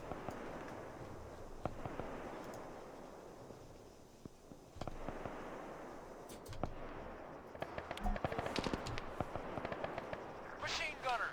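Sharp bursts of machine gun fire crackle through a combat scene in the military shooter Arma 3, some distant and some closer, with a heavier cluster of shots near the end, all under a voice talking.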